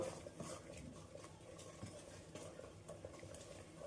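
Ragi flour cupcake batter being stirred together with cocoa powder in a bowl, a soft continuous scraping and mixing sound at low level with no talking.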